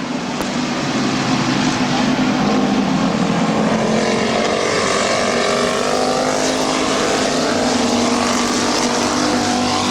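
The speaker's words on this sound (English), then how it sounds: "Battle for that position now between Bunton and the number 2 car of Lee McCreary" Race cars roar around the oval at Midvale Speedway in a May 2009 event, a loud, continuous engine drone with pitch sweeping up and down as cars pass.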